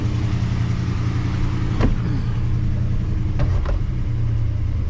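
A car engine idling after its cooling system was flushed, the engine still overheating: a steady, close mechanical hum with a few short creaks and ticks breaking through.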